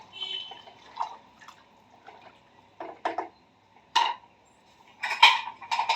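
A spoon stirs vangi bath, a rice dish with ghee and chopped coriander, in a cooker pot, giving sparse metallic scrapes and clinks in irregular bursts against a quiet background.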